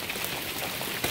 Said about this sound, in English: we are getting freaking hailed on right now